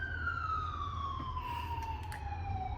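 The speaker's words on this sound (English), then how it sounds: "even if there's siren noise outside my window" A distant siren wails steadily with a slowly falling pitch, heard faintly through background hum.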